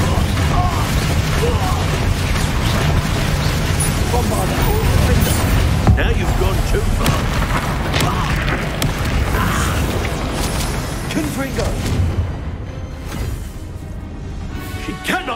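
Spell blasts and booms from Hogwarts Legacy combat, with Bombarda and Confringo among the spells, burst repeatedly in dense, loud succession, mixed with character voices and game effects before fading near the end.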